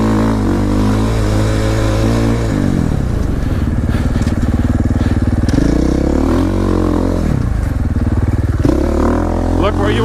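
Dirt bike engine revving and droning on a sand and clay trail, loud and close throughout with rising and falling pitch as the rider shifts and accelerates.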